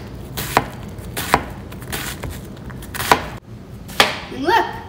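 A knife dices onions on a cutting board in a home kitchen, giving four or five sharp, separate chops spaced about a second apart, then a brief scraping sweep at the end, with faint talk in the background.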